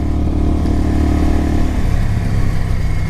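A Kawasaki Vulcan 750 motorcycle is ridden through snow, its engine droning steadily and fairly loud throughout with a low, continuous rumble and wind noise; the engine note eases slightly partway through.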